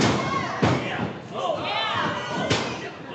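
Wrestlers crash onto the ring mat during a multi-man match, with a Hurricanrana and a dropkick landing as two sharp, loud slams about two seconds apart over steady crowd noise and commentary talk.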